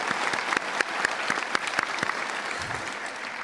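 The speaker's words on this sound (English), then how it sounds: "Let's give them all a round of applause." Applause from an audience at a school graduation ceremony for environmental studies, honoring school staff: steady clapping with a few sharp, distinct claps standing out, lasting a few seconds and thinning slightly toward the end.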